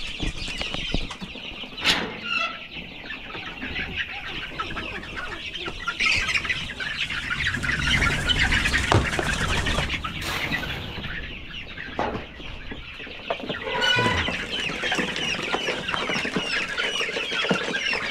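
Native Darag chickens, hens and roosters, cluck and call repeatedly with bursts of wing flapping, a busy close farmyard chorus with no talk.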